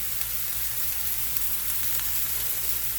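Vegetables sautéing in a pan for a veggie tortilla omelette, a close, steady hiss of sizzling oil without pause and with no voices.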